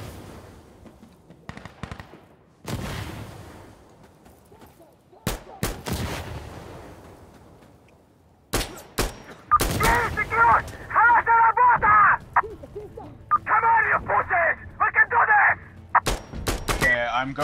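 Gunfire and explosions in the video game Insurgency: Sandstorm, with scattered sharp shots and booms early on, then rapid bursts of fire crowding the second half, mixed with players talking over team chat.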